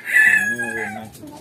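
A golden pigeon ornamental chicken crows from a cage on a farm, one loud, drawn-out call close by that tails off over about a second and a half.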